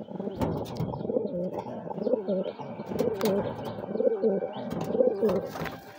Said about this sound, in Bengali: আরো কিছু কবুতর আছে এখানে ডিম পাচ্ছে।